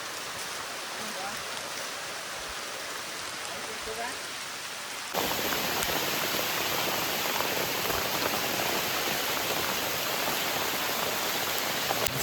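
Steady rain pours down, a dense, even hiss of drops that grows heavier and louder about halfway through and continues without a break.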